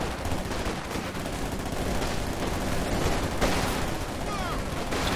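Machine-gun fire and other gunshots crackle through a dense Company of Heroes 2 battle in a 3v3 match, a steady barrage of bursts over a continuous din of combat.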